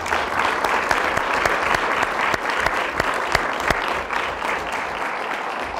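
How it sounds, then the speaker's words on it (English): Audience applause for a panel of speakers at a food and biotechnology discussion event, steady sustained clapping from a sizable crowd lasting several seconds, fairly loud and unbroken. "Give them a round of applause"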